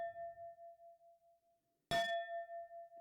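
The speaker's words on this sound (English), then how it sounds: "let's distort this bell a little bit" A metal bell is struck twice, each ring a sustained clear tone that decays slowly, the second strike sharper and brighter with a noisy crunch added. The bell is close and sounds alone.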